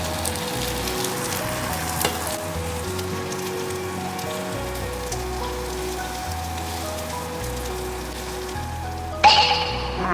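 Steady, dense sizzling of tofu frying in hot oil, continuous and fairly loud, with a brief clatter near the end.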